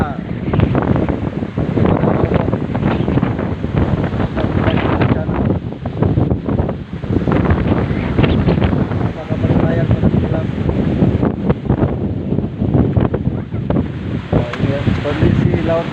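Strong wind and sea waves hit houses in a coastal village on Pemukutan with waves around five meters high, making a constant loud roar and buffeting gusts against the microphone, with a voice talking under the din.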